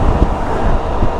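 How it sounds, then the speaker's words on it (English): Strong wind buffets the microphone outdoors under cloud cover, a loud low rumble with gusty thumps throughout and no talking. "It's very windy."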